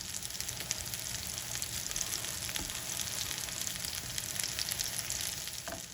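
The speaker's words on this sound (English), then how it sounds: "We're just waiting for the bottom to be seared, and then we're ready to eat." Vegan aloo tikki potato pancakes sear in a hot pan, giving a faint, steady crackling sizzle that continues evenly with no talking.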